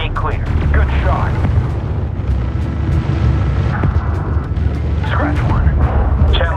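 A spaceship's reactor blows in the Homeworld 3 space-combat game, a deep rumbling boom among layered battle explosions and weapon bursts, loud and continuous, with radio chatter voices over it.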